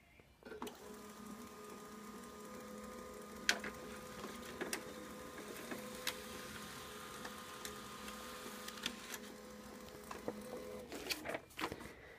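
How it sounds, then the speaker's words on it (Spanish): An HP LaserJet 1020 laser printer runs a test page with a steady mechanical hum and whir, marked by occasional clicks and brief rattles, ending in a short burst of sharper clunks as the sheet feeds out. "nos dirigimos a la opción Impresora y posteriormente imprimir página de prueba"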